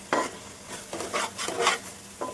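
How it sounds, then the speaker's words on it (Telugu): Garam masala fries for fish biryani in a pan, with a stirring utensil scraping in several separate bursts over a soft sizzle, close up and with no talking. "2 నిమిషాలు ఫ్రై చేసుకుంటే సరిపోతుందండి."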